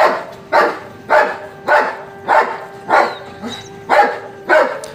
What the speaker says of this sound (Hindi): महाराज जी आपके पास कुछ देसी कुत्ते भी हैं।